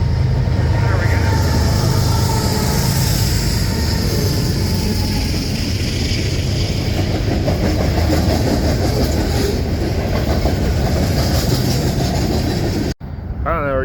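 A train rumbles past close by in Flagstaff, Arizona, wheels clacking steadily over the rails with a loud continuous roar that cuts off abruptly near the end.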